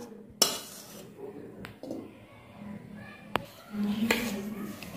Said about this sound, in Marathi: मोठं भांडं घेऊन रवा काढून घ्यायचा.